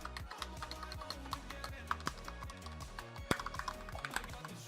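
Madcatz STRIKE 6 budget 60% keyboard with red linear switches being typed on, a steady close stream of deep thocky keystrokes with uneven rhythm and occasional harder presses, no talking.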